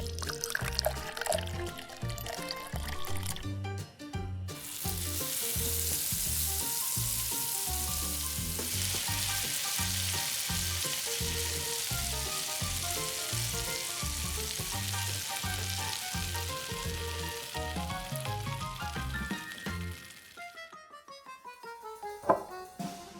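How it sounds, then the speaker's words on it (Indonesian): Loud, steady hiss and crackle of battered, egg-dipped chicken thighs frying in hot oil, continuous for most of the clip, with a brief burst at the start and quieter clatter near the end. "Goreng paha ayam."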